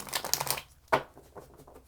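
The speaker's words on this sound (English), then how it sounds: "How many more shuffles should we do?" Brisk papery riffling of tarot cards shuffled close by, then a single sharp snap and a few soft taps.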